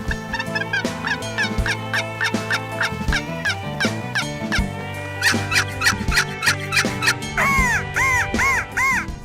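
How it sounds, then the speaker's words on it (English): Continuous run of wild turkey yelps and clucks, close and loud, with sharp rhythmic notes and rising calls toward the end. "turkeys have different sounds: yelp, cluck,"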